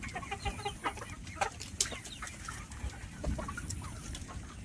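Black Australorp chickens cluck and call softly in a poultry shed, scattered clucks and short squawks overlapping at close to medium distance against a low background hum, with no talking.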